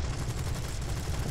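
Aircraft guns fire in the War Thunder video game, a dense rapid burst of gunfire over a steady engine drone, loud and continuous.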